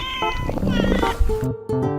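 A cat meows several times in short, clear, drawn-out calls, close and loud, each rising and falling in pitch with brief gaps between them.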